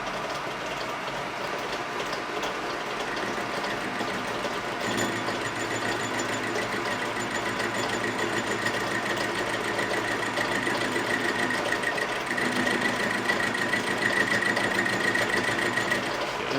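A Lantaine LAM-350H metal lathe is taking a cut on a metal workpiece, producing a steady, close mechanical whine and hum with a faint gritty cutting texture. The tone shifts slightly partway through, and no one speaks.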